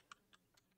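Faint, sparse clicks of individual keys on a computer keyboard while coding a Python solution, a few isolated taps spaced apart in a quiet room, no talking.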